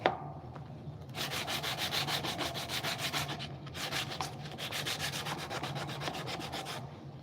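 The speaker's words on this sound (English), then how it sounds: "Could use this rough sandpaper. It's a lot of corners." Rough sandpaper rubs by hand over the corners and edges of a wooden box lid, a steady close scratching in even back-and-forth strokes with one short pause midway and no talking.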